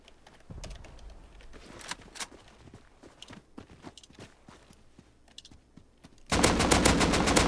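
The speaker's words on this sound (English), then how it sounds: "Dude, I'm going ham with the AK right now." AK rifle fire in a video game: scattered single shots and clicks, then a loud sustained automatic burst at the end.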